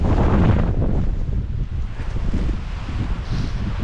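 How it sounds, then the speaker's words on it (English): Strong wind gusts buffet a tent during a winter blizzard with heavy snow, a steady loud roar with rushing surges, strongest at the start and continuing throughout. "But the wind's getting stronger."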